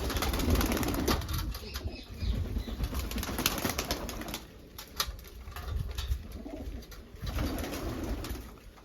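A flock of pigeons gathers to feed on grain, wings flapping in repeated bursts amid soft cooing and scuffling, close by and fairly busy throughout.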